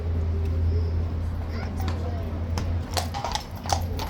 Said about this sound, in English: Horse is swishing away behind us.